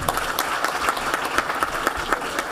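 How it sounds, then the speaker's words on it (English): Dense, steady applause from a conference audience at the Connected Summit 2023 after a pitch, many hands clapping together at an even level with no voices over it. "A big round of applause for Lecturer Nthiga."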